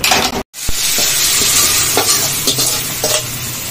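A tempering of chillies fried and stirred into chutney, with loud close sizzling and scraping mixing strokes running almost continuously after a brief dropout near the start, no talk.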